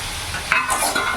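Fried potatoes are stirred into sizzling masala for a silver carp curry, with a spoon scraping through the pan over a steady hiss of frying oil, close and continuous.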